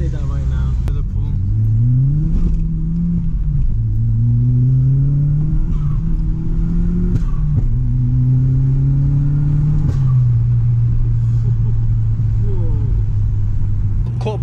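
An Audi S3 replica with a 1.8T engine drives along, its engine droning steadily and rising in pitch through several gear pulls, each followed by a shift, close and loud throughout.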